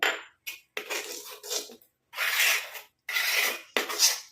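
A spoon scrapes and rubs around a bowl while hair paste is mixed with rice starch water, in a series of short, close scraping strokes separated by brief pauses.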